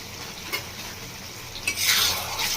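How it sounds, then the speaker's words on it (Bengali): Ground chili, cumin and coriander powders are stirred and fried in a kadai for chicken, with a spoon scraping the pan, soft crackling and a louder sizzle surging up near the end, no voices. "ভালো করে মশলাটা সাথে কষিয়ে নেব।"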